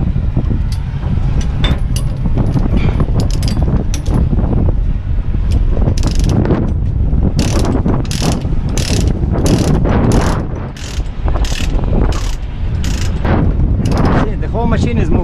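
Ratchet strap being cranked tight on a heavy haul trailer load, a CAT 950M wheel loader chassis, giving repeated clicking bursts over constant loud engine rumble outdoors.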